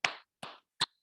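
Three sharp, separate hand claps, close and quiet, evenly spaced with silence between them, greeting a winner at a kids' quiz during the Gaur Nitai Festival at ISKCON Girgaum Chowpatty.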